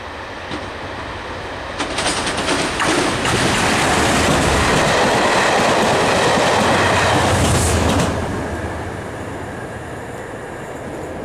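Two Class 68 diesel locomotives, 68018 and 68019, pass at Whitlingham Junction hauling a train, a loud steady rumble of wheels and engines building up close by, peaking for several seconds, then easing off as it moves away.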